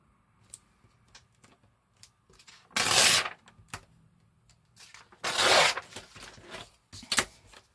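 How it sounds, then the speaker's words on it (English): Paper for a handmade journal cover being torn by hand, two main ripping bursts plus a brief third, close and fairly loud, with faint rustling and handling between. "let's move that out so that I can tear this easier"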